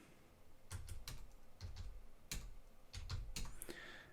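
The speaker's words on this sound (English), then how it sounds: "I'm entering the coordinates" Keystrokes on a computer keyboard as astronomy imaging coordinates are entered, short clustered bursts of clicks in an irregular rhythm, close and fairly quiet, with no voices.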